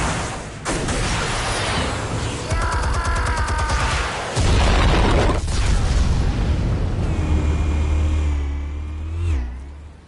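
Detonated explosives go off in the Batman Telltale game, a loud deep blast rising out of mechanical rumbling and clatter, then a long sustained low roar with whining tones fading out.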